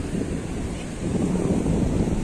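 Sea waves wash onto a white-sand beach lined with casuarina trees, a continuous broadband roar with gentle swells, mixed with wind buffeting the microphone.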